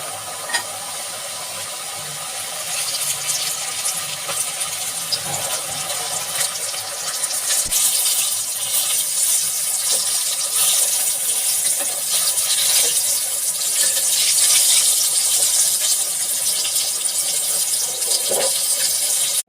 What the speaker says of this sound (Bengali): এবার এগুলোকে আমি সরাসরি ডুবো তেলে ভেজে নিব।